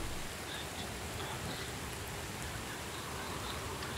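Rain falls steadily in a zombie survival video game, a constant close hiss with faint droplet patter throughout and no talking.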